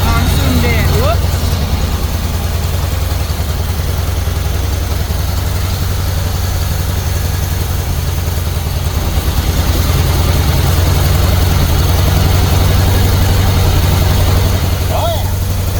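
Reassembled Jeep engine running at idle, a loud, steady low rumble with a continuous throb that holds evenly from start to finish, close up.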